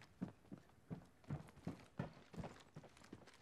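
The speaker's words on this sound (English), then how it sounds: "I can hear footsteps around me." Footsteps in the video game Apex Legends, a series of about a dozen soft, evenly spaced thuds at a steady walking rhythm, fairly faint with no talk over them.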